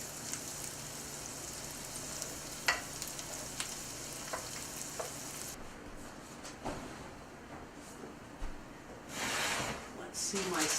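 Vegetables sautéing in a pan, a continuous close sizzle with occasional stirring clicks that grows brighter near the end.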